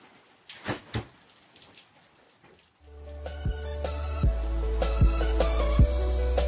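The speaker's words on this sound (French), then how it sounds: "il pleut. Et il pleut même beaucoup." Heavy morning rain falls in Mafate on Réunion island. It starts as quiet, scattered patters and then swells into a steady, dense hiss with a low droning undertone. No one speaks.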